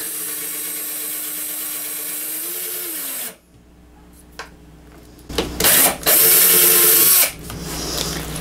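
A power drill countersinks a hole with its clutch set very low, first a steady whine that rises in pitch, then a pause and several short, loud bursts of drilling and clutch ratcheting.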